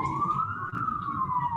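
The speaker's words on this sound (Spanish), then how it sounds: "En algún lado está pasando una ambulancia." An ambulance siren wails somewhere outside, a steady rising-and-falling tone heard from a distance over low background rumble, with no talk.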